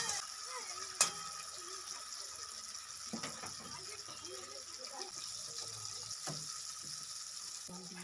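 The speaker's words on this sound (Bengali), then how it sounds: "এখন আমি এর ভিতরে 2 কাপ জল দিয়ে দেব" Water pours steadily into a hot pot of fried potatoes and spices for a paneer kaliya gravy, a continuous hissing gush with a few sharp knocks, fairly close.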